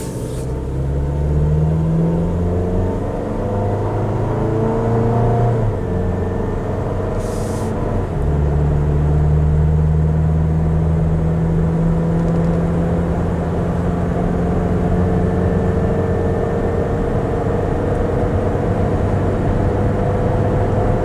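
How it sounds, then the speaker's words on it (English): A 2023 Toyota Tacoma SR Access Cab with the 2.7L four-cylinder drives and accelerates, its engine note climbing in pitch, dropping at shifts and climbing again over steady road rumble, heard alone from inside. "listen to the truck."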